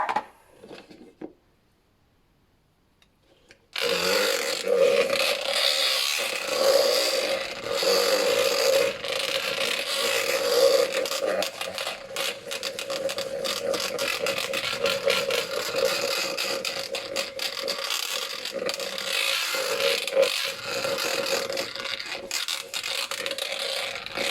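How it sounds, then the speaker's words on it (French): A small electric hand mixer whips shea butter chantilly. It starts abruptly after a short silence, then gives a steady loud whir with scraping and rattling for about twenty seconds, and no one talks over it. "je vais utiliser le batteur plus petit"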